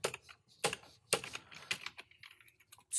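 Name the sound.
typing on a computer keyboard to fill a PDF form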